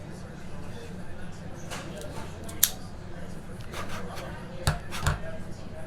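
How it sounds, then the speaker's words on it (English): A La Flor Dominicana 1994 cigar gets a V-cut, with a few sharp snipping clicks close by, the loudest near the end, under quiet ongoing talk. "So we're gonna do a V-cut on this thing today."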